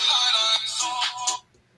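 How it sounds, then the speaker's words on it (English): A phone rings with an incoming call, giving a loud, bright electronic ringtone for about a second and a half before cutting off abruptly, with no talking. "Uh-oh, and now I'm getting a phone call."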